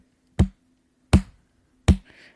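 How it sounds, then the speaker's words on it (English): Three slow, evenly spaced hand claps, loud and close, with a steady low hum and a brief faint noise after the last clap. "I want to do the slow clap for All Play"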